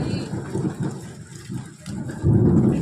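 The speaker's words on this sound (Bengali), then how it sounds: "কি বৃষ্টি হচ্ছে গো।" Heavy rain pours steadily with low rumbling thunder rolling underneath, swelling louder toward the end, heard nearby without talk.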